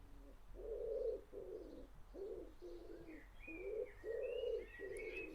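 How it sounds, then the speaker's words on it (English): Pigeons coo close by in a steady repeating rhythm of soft low phrases, with a few faint higher bird chirps joining near the end and no talk. "the pigeons are rooting for me."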